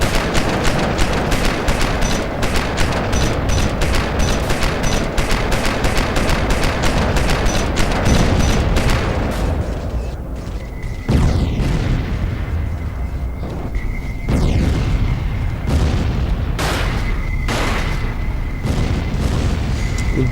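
Spinning turrets firing across a battlefield in the game Starforge, with dense rapid bursts of gunfire and booming explosions that run loud and continuous, then thin into scattered shots and blasts with a sustained whine.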